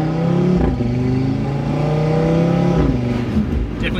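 A tuned Audi RS3 engine revs up and down nearby, its pitch rising and falling in smooth sweeps, loud and continuous.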